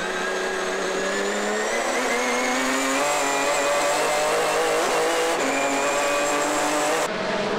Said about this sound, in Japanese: GT500 クラス、おなじみの GTR 対スープラ中盤争い。